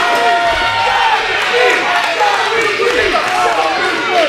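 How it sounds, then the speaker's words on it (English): Crowd at an independent wrestling show cheering and shouting, a loud continuous roar of voices with thumps from the ring beneath it. "The crowd loves it."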